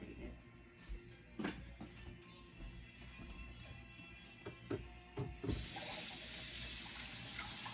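Running tap water splashes steadily over hands at a sink in a home kitchen, with a few brief knocks and clatters before the flow grows louder and gushes continuously near the end.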